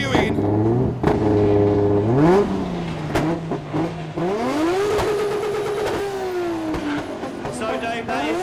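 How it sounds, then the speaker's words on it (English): Drift car engines rev hard at Mondello Park during a drift championship Pro Top 16 start, several engines rising and falling in pitch together, loud and continuous with sharp throttle blips, while a crowd or announcer voice sits underneath. "please break all of the noise regulations in Mondello Park and start your engines!"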